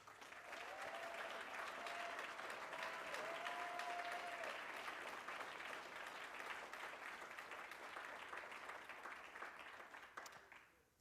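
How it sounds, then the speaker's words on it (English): At a city address event, the audience gives a long, sustained round of applause, many hands clapping in a steady, even roar that fades slightly before ending abruptly. "So tonight, let's have another round of applause."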